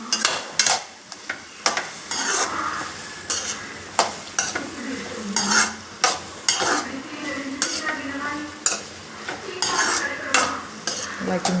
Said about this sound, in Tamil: வச்சுருக்க வெண்டைக்காவை இப்போ போடும். நல்லா கிண்டி விட்டுக்கணும்.